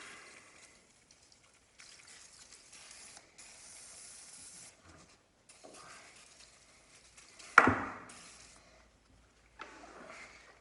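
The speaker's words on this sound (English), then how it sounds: "I'm gonna spray a little liquid wrench front and back" Short hissing bursts from an aerosol can of Liquid Wrench penetrating oil sprayed on an SSR Mesh wheel, faint at first, then one loud close spray followed by a final brief spritz amid quiet rustling.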